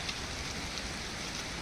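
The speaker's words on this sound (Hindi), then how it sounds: "ये जो झमाझम बारिश है" Steady rain hisses continuously with a dense, even texture of drops, moderately near and unbroken throughout, with no voices.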